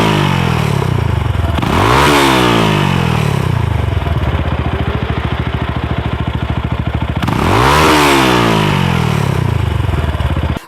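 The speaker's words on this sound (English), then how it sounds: "This exhaust backfires like a mother trucker" A completely custom aftermarket exhaust on a motorcycle, revved hard twice in loud close bursts with sweeping pitch, a rattling choppy idle between them and crackling pops.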